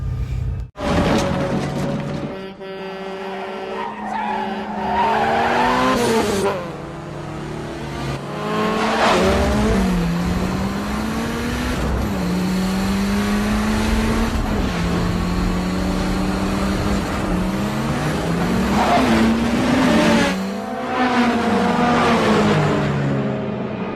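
Cars in a chase from The Fast and the Furious film roar past with rising and falling engine revs, repeated gear shifts and squealing tires, loud and close throughout, with no voices.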